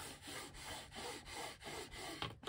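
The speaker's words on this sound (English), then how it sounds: "I ironed over it." A small travel iron glides back and forth over fabric in repeated rubbing strokes, a soft rhythmic swishing about four times a second, close and quiet.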